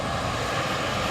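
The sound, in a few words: ATR turboprop aircraft landing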